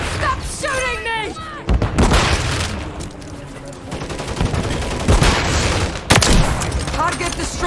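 Bursts of gunfire and booming blasts fill a video game shooter match, with rapid volleys and heavy impacts, while shouted voices and game announcer callouts talk over the action.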